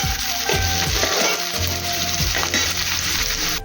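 Chopped onion sautéing in a hot pan, a steady loud sizzle and crackle with occasional stirring scrapes throughout, no voices.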